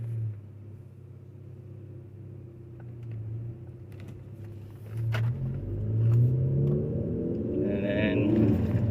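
A 6-speed manual car with electronic throttle pulling away in first gear on a neighborhood street, low idle rumble rising into a revving climb as it accelerates, heard from inside the car.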